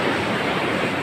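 Sea waves wash in at the beach, a loud, steady surf roar that fills the moment with dense broadband noise and no voices.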